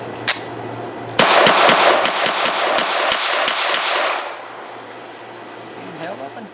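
A B+T TP9 pistol with a folding brace fires a rapid string of about a dozen sharp, loud shots, close up, followed by ringing echo as the firing stops.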